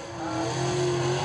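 A race car runs a qualifying lap at Wartburg Speedway, its engine droning steadily and fairly loud as it comes off the final turn, with a sustained tone and no speech.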